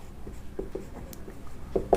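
Pen scratching on paper during a maths problem, short quiet strokes in an uneven rhythm, close up and alone.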